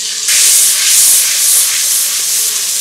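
A paste of ground tomato, turmeric, white and black mustard and green chilli, mixed with water, hits hot oil and bursts into a loud, steady sizzling hiss that holds, close and with no talking.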